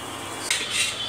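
A spoon stirs mango dal in a metal pot, giving a couple of quick close scraping clinks over a steady background hiss.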